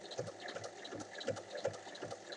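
Sewing machine stitching a topstitch along a zipper on a small zero-waste fabric pouch, a steady mechanical whir with rhythmic needle pulses, fairly quiet and close.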